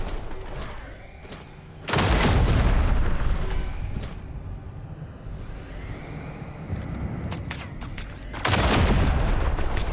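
Heavy gunfire and explosive blasts in the video game Duet Night Abyss, loud sustained bursts of shooting and booms that surge near the start and again at the end, with a dense rumbling barrage continuing between them.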